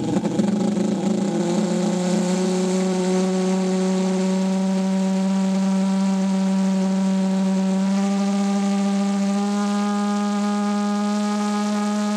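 A 3D printed ThermoJet pulsejet engine runs loudly and continuously, giving a harsh, steady buzzing roar with a strong tonal drone that holds pitch for many seconds and shifts slightly partway through, heard close up without any talking.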